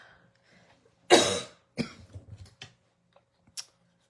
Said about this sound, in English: This cough has just been hanging on since the holidays.